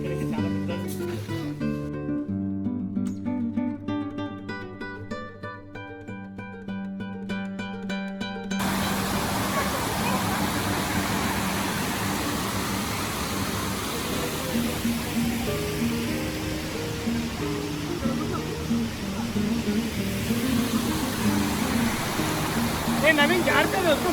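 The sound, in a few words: waterfall in Telangana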